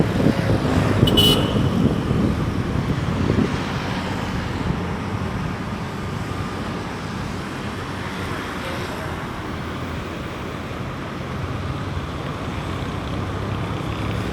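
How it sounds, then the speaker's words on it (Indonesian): Light afternoon traffic flowing along the Padang–Bukittinggi road in West Sumatra a few days after Eid al-Fitr, a steady broadband roadway rumble with cars passing and a brief horn toot near the start. "arus kendaraan pada sore hari ini cukup lancar sekali. Volume kendaraan juga tidak terlalu padat."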